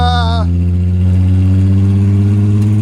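A race car engine, revved cold during an endurance race, drones loudly and steadily up close, its deep rumbling hum holding constant after a brief higher whine at the start.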